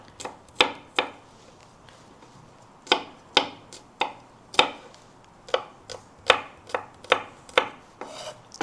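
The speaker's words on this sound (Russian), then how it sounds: "Измельчаем мелко чеснок." Garlic being finely chopped with a knife on a board, sharp irregular knife strikes in quick bursts and pauses, close and clear without talk.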